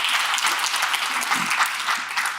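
An audience at a keynote event applauding for Rob Angel, a dense, even wash of clapping that holds steady throughout without talk.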